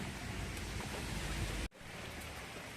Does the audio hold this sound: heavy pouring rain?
yes